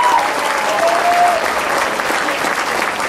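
Audience applause for the bass player at a band introduction, a steady dense wash of clapping at close range, with a brief whoop or whistle rising above it.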